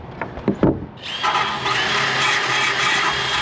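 A handheld drill fitted with an abrasive cleaning disc spins up with a rough, grinding whir after a few brief clicks and taps, running steadily and fairly loud.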